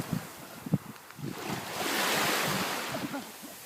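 Sea waves wash onto a summer beach shore, a steady surging roar that swells in the middle and eases off, with some wind buffeting the microphone and a few soft thumps near the start.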